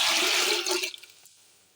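A litre of water pours in a loud, rushing gush into a pressure cooker holding black chana, spices, onion, tomato and garlic, then trails off into a few quick drips and quiet.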